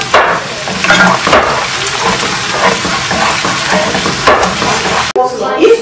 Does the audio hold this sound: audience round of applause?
no